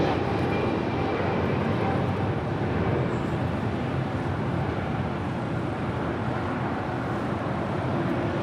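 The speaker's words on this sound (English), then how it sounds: "That was the flight heading to Honolulu, flight 1170 and the 777-200" A Boeing 777-200 jet on flight 1170 to Honolulu roars steadily at an airport, a broad continuous rumble holding at constant loudness throughout with no voices.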